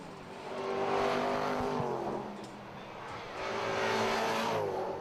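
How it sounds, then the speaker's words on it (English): Historic racing cars with deep V8 engines roar past on the Brands Hatch circuit, swelling as one approaches and fades, then another rising pass, loud and throaty with no talking over it. "Just nice to listen to the grunt of the V8s, isn't it, going through there"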